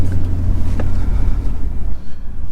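A Lexus GS F fitted with an Apexi midpipe exhaust drives along, heard from inside the cabin as a muted, low engine rumble with some wind noise.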